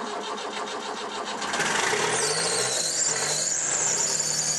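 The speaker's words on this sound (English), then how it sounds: "he'll fire up like that in a cold morning" A 2.5-litre diesel engine without glow plugs cranks on a cold morning and catches, a high squeal riding over the rough mechanical churn as it settles into a loud, steady run.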